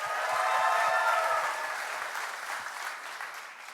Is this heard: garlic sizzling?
no